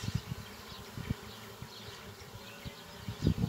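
Honey bees buzz steadily around an open Dadant hive, a close, continuous low drone with individual bees flitting past and swelling louder near the end, with no talking.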